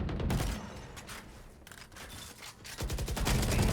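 Rapid gunfire from a Valorant match, loud clustered bursts of shots with a brief lull before another volley, no talking.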